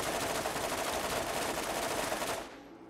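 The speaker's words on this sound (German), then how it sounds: "Und ich schieße aber ziemlich schnell die Waffe." Rapid automatic gunfire from a weapon in the video game Borderlands, a dense continuous burst lasting a couple of seconds before cutting off abruptly, loud and close with no talking.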